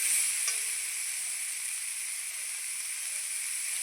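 Spices sizzle and fry steadily in a hot pan while cooking a radish dish, a continuous bright hiss with a brief clink near the start and no voices.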